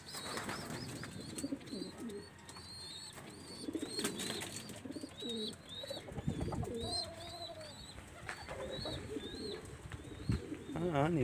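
Pigeons at a backyard loft coo repeatedly in soft, rolling calls, several birds overlapping near the microphone, with scattered chirps and occasional wing noise and someone speaking briefly in the background.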